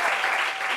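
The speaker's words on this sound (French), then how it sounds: "Applaudissez pour la Réunion." A studio audience on a talk show set applauds, a brief burst of dense clapping, close and fairly loud, with no voices over it.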